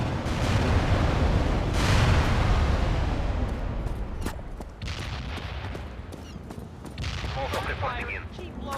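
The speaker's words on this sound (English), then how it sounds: "Molotov firing mortars" Mortar fire and battlefield explosions in the real-time strategy game World in Conflict, a heavy rumbling barrage of blasts and gunfire that thins into scattered crackling shots, with radio voices over the top.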